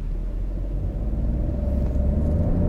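A 2020 Chevrolet Onix Plus with its 1.0 engine accelerates down an empty street, a steady low engine rumble and road drone heard from inside the car, with no talk over it.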